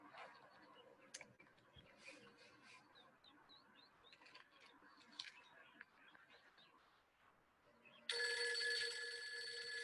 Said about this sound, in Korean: 그때에 전화 한 통이 걸려와서